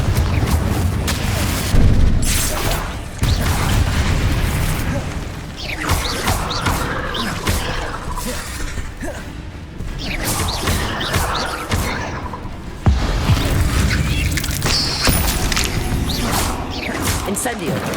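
Explosive Confringo spell blasts in Hogwarts Legacy, heavy booms and whooshing bursts repeating through a loud, busy stretch of combat with mechanical creaks, voices speaking over parts of it.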